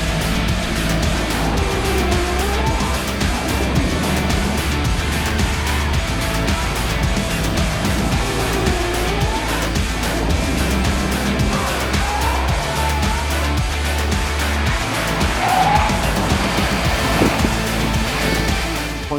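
Race cars launch at the start of a Lamera Cup race at Motorland Aragon, a loud, continuous roar of engines mixed with steady wind buffeting on the mic.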